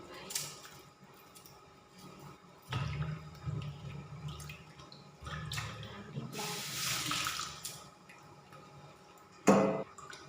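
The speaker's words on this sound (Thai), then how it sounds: "ส่วนมะแตงเขาก็ล้าง2 น้ำค่ะ" Cucumbers being washed in water, with splashing and sloshing in bursts, a few sharp knocks and drips between, close and moderately loud.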